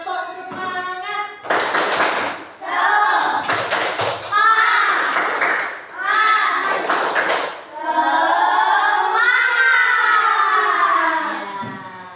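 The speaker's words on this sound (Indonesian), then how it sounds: "Yuk, tepuk semangat." Schoolchildren in a fifth-grade classroom perform a rhythmic spirit clap, bursts of sharp group claps and taps alternating with loud chanted voices, the clapping patterns repeating in several blocks under the children's speech.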